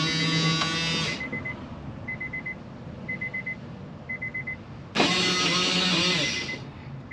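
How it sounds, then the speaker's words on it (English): Power window motor on an AWD K sedan, right-hand drive, whirs in two loud bursts of about a second each, window going up and then down, with faint short beeps pulsing in the pause between. "Motor goes up and down perfectly fine."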